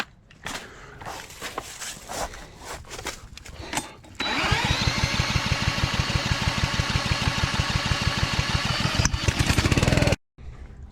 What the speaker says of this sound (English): let's get this pressure washer going